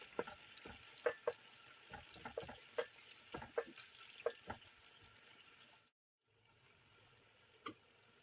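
Onions, carrots and spices frying on top of meat for tsuivan, a Mongolian dish, a faint sizzle under repeated clicks and taps of stirring, broken by a short silence before the frying resumes.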